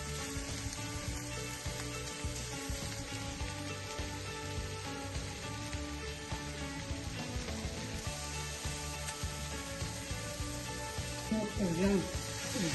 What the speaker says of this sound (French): Laissons bien blondir nos oignons et on le laisse aromatiser avec